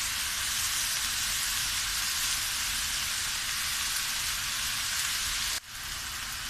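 In a large pan, vegetables are tossed and mixed over a constant dense sizzle like heavy rain, loud and close, with a brief dip near the end, and no talking.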